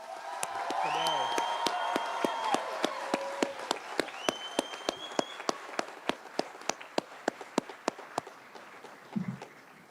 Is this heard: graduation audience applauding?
yes